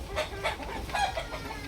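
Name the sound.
gamecock rooster clucking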